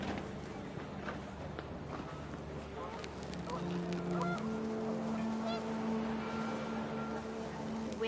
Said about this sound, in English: panicked geese appeared and quickly went